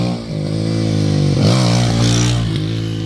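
A motorcycle engine revs loud and close during wheelie practice, its pitch sweeping up and down in several throttle blips over a steady idle.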